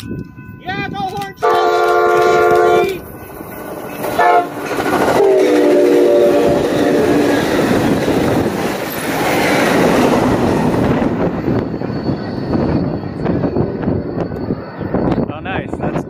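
An Amtrak or BNSF train sounds its horn in long, loud blasts at a grade crossing at Avenue 9 in Madera, then rumbles past close by with rail noise while someone talks excitedly over it.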